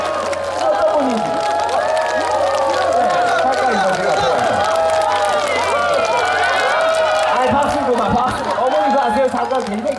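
A crowd at a magic show claps, cheers and chatters continuously, with a presenter's voice heard over the lively audience noise.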